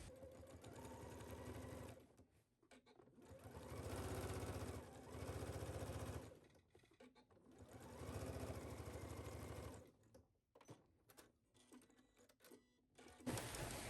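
A sewing machine understitches a skirt pocket, running in steady stitching bursts that pause briefly between runs, close and clear with no talking.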